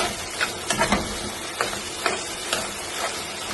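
Fried chicken wings are stirred and mixed in a pan, with a few soft scraping strokes and light knocks over a faint, steady sizzle, and no voices.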